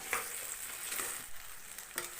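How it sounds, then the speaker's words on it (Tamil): Fried eggs stirred in a pan for egg chilli, a soft even sizzle with a few light spatula scrapes, fairly faint. "இதை சேர்த்துட்டு நல்லா ஒரு முறை கிண்டி விட்டுக்கலாம்."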